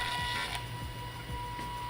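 Zebra ZT600 RFID industrial printer running, a close mechanical whir with regular clicking pulses and a steady high electronic whine throughout.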